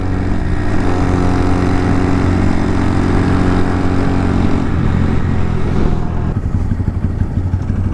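A Honda Monkey small motorcycle engine with an aftermarket TV Parts exhaust drones steadily at high revs, its tone shifting and roughening near the end, loud and close with no voices.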